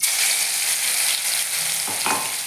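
Crushed onion and garlic hit hot oil and fry, a loud close sizzle that hisses steadily, with a couple of brief stirring scrapes near the end and no speech.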